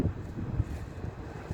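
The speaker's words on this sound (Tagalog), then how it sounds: "Maganda ang simoy ng hangin." A cold breeze blowing outdoors on a clear day, a steady low rumble of wind across the microphone with soft irregular gusty thumps, fairly faint and with no talking.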